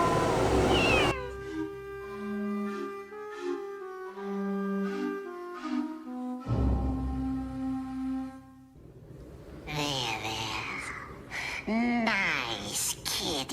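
A cat meows several times in a Tales from the Crypt episode, drawn-out mid-pitched cries heard over eerie background music, with a voice speaking briefly near the end.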